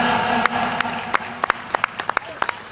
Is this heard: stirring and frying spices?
no